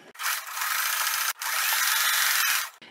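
A sewing machine runs in two sustained close bursts stitching T-shirt fabric for a dress, a steady whirring buzz broken by a brief pause.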